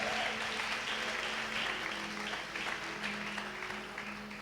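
Congregation at a Sunday church service applauding and cheering in praise, a steady dense wash of clapping with a low sustained tone beneath that slowly fades.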